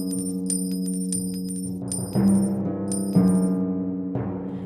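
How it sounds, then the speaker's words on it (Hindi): Gold coins clinking and dropping one after another in a steady counting rhythm, bright metallic rings layered over a sustained musical drone. "खाना हो जाने पर वो राक्षस अपने सोने के सिक्के गिनने लगा।"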